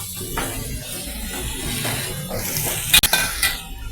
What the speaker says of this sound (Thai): เราก็ผัดไปเรื่อยๆนะครับ